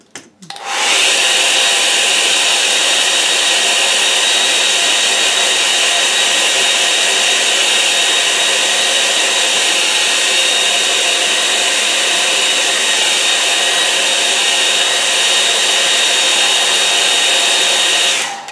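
A hair dryer blows on a watercolour river painting, giving a loud, steady, close-up whir that starts abruptly and runs unbroken for about eighteen seconds with no talking.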